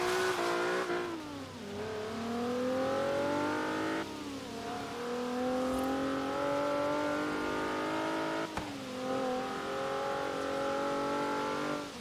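A Nissan 370Z with an automatic transmission revs loudly in Forza Horizon 3, its engine note climbing through repeated rising sweeps and dropping back at each shift, steady and close with no talk.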